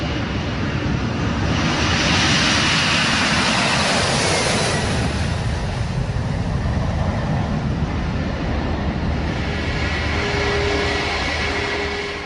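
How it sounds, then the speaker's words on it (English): An American Airlines Boeing 767 jet airliner departs for London, its loud, sustained engine roar filling the whole stretch with a broad rushing noise that swells early and stays steady to the end. "it's the turn of an American Airlines Boeing 767 departure for London"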